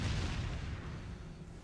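A gunshot fired in the video game Resident Evil 4, a single muffled, low boom that fades out over a second and a half, fairly faint with no talking.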